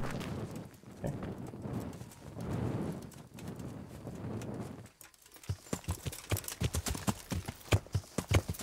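Horse hooves clip-clop in Kingdom Come: Deliverance, a rapid, close rhythmic series of hoof strikes that follows a stretch of rougher, rumbling movement sounds.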